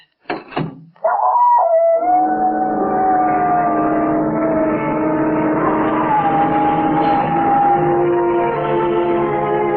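A dog howls in a long, sustained, wavering cry for most of the passage, loud and close, after a few brief sharp sounds at the start, produced as a radio drama sound effect.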